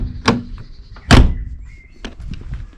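Car door on a Volvo 940 shutting with a solid, heavy thunk, preceded by a lighter click of the handle and followed by softer knocks, close by.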